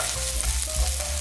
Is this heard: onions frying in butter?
yes